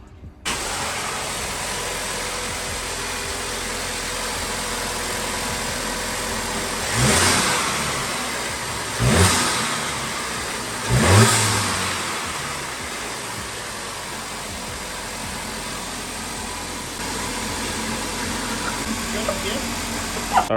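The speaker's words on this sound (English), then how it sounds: "that is the Unitronic Cold Air Intake on the Alltrack" VW Golf Alltrack MK7 engine fitted with a Unitronic cold air intake, a steady engine drone broken by three distinct rev bursts in the middle, fairly close, with no talking.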